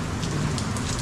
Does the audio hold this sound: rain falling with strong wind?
yes